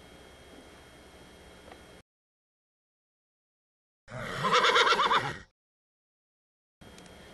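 Greek chariot horse neighing in a single loud whinny of about a second and a half, set between stretches of silence and faint background noise.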